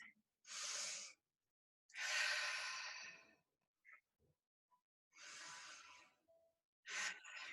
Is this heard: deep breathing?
yes